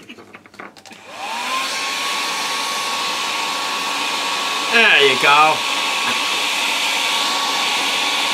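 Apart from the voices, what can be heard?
hairdryer blowing on a wind turbine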